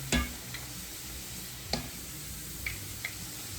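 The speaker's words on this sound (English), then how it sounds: "We're just frying them up." Chicken wings frying in oil with a constant soft sizzle, broken by a few sharp utensil clicks and taps.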